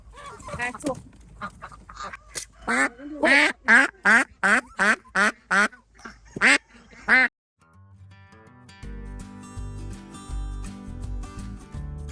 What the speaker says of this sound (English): you can hear the drakes. They're raspy.